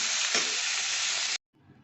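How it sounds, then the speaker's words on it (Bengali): Cauliflower florets frying in hot oil for an egg dish, giving a loud, steady broadband sizzle that cuts off abruptly, followed by a brief quieter sizzle near the end. "এইরকম ভাজা ভাজা হয়ে এসছে খানিকটা হালকা লাল পরিণত হয়েছে"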